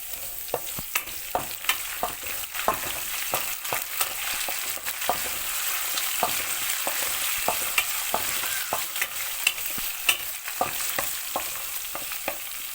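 Urad dal and curry leaves frying in hot oil for tomato rice, a steady crackling sizzle broken by frequent sharp stirring scrapes in a loose rhythm, close and moderately loud with no voices.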